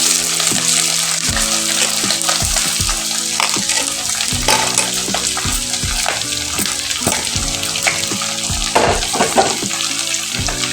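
Onions and green chillies fry in hot oil in a pan, a steady bright sizzle with frequent sharp crackles and pops as the vegetables spit, close and loud, with no talking.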